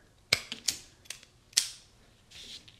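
Klein Katapult wire stripper and cutter working close up, a handful of quiet, crisp mechanical clicks and snaps spaced irregularly, ending with a soft scrape.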